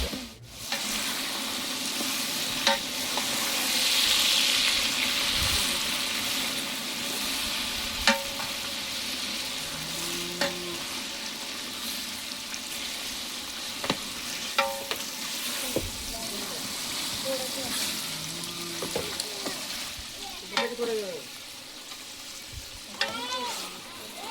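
Mutton pieces hit a hot pot over a wood fire and start sizzling loudly, with scattered scraping stirs and clinks over a steady frying hiss.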